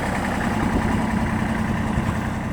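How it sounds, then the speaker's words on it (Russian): A Kubota GL27 compact tractor's small diesel engine idles steadily nearby, a low, even rumble with a constant mechanical chug and no other sounds. "И сегодня у нас вот такой вот многофункциональный, универсальный трактор Kubota"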